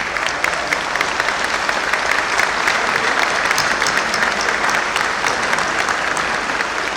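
Sustained loud applause from a large audience at a university convocation in Karachi, dense steady clapping that continues evenly throughout with no talk over it.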